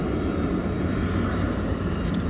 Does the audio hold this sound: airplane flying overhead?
yes